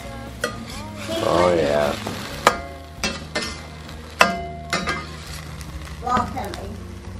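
Keto cinnamon French toast sizzles steadily in a pan as a utensil scrapes and clacks sharply against it several times during flipping, with a brief voice between the knocks.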